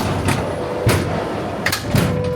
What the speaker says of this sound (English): both the doors automatically open.